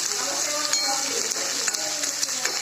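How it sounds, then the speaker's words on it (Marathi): Sliced onions sizzle steadily in hot oil in a pan, a bright continuous hiss with a few faint clinks of a utensil. "आता हे काही कांदा भाजून घेतले"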